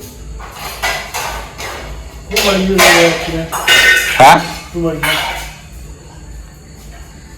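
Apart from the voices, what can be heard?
cooking pot being put down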